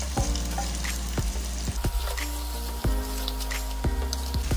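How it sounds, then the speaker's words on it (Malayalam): Fried masala being stirred into cooked tapioca (kappa) biryani, Kottayam style, with a steady close sizzle under repeated sharp scrapes of a spoon against the pot, roughly one every second, no talking. "വേവിച്ച് വെച്ചിരിക്കുന്ന കപ്പ ബിരിയാണിയിലേക്ക് നമുക്കിത് ആഡ് ചെയ്യാം. എന്നിട്ട് നന്നായി ഇളക്കി യോജിപ്പിക്കും."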